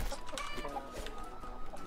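An alpha chicken in the ATLAS video game clucks repeatedly in a steady, busy stream of short calls, heard alone without speech against a constant game background.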